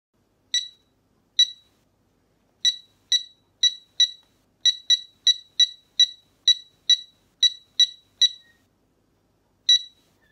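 Short electronic beeps from a van alarm being programmed, about fifteen crisp chirps in an uneven rhythm, close and clear against silence.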